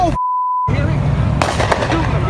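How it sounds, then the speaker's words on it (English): A sharp burst of loud gunshot-like cracks cuts through a steady background with some talking, following a brief electronic beep tone. "Then gunfire."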